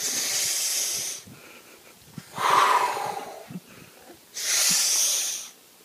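A person takes slow, deep breaths, each inhalation a loud, close airy hiss lasting about a second, with three separate breaths spaced across the stretch and quiet pauses between them.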